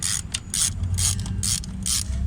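A ratchet wrench clicks in quick bursts while loosening brake caliper nuts on a Fiat 500, near and loud, with short pauses between strokes over a low mechanical rumble.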